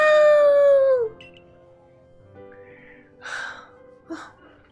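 Hisuian Arcanine in Pokémon Legends Arceus gives one loud, long howling cry that drops in pitch at the end, followed by quieter game sounds.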